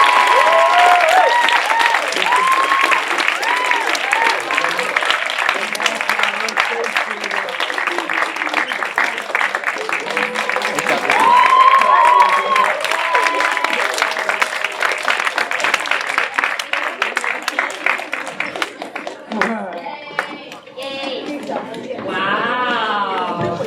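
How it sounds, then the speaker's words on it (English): Sustained loud applause from a room full of people after a Romeo and Juliet workshop performance at St. David's, dense clapping with some cheering that continues for over twenty seconds before voices begin to rise through it at the end. "I think that we need a big round of applause for everyone in the room."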